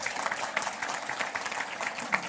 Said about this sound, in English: can we have a big round of applause for Dr. Shetty, please?